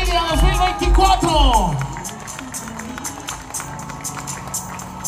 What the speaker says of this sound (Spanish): Un aplauso fuerte, por favor.